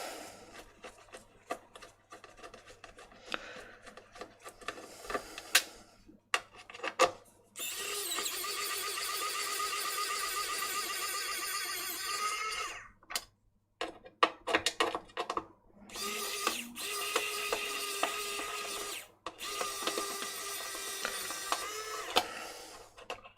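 Whirring motorized driver spins out a Torx 8 screw on an Xbox One S console, running in long buzzing stretches broken by short pauses and clicks, close and steady with no talk.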